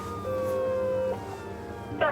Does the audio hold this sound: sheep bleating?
no